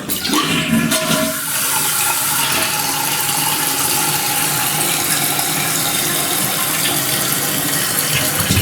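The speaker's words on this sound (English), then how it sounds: "Let me flush it and see if it's usable for now." A loud toilet flush roars and gurgles close by, water rushing continuously for several seconds before settling into a steady refill through a Fluidmaster 400A fill valve.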